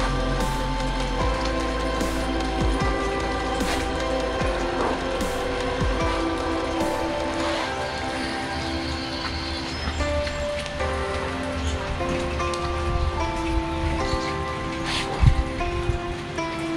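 Light to medium rain falls on a covered patio, making a continuous patter of drops at moderate loudness, with faint tonal background sounds.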